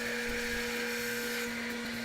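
A drill bores holes into MDF while a cup holder is being built, giving a steady, loud motor whine with a sustained buzzing tone and a grinding edge, continuous throughout with no talking.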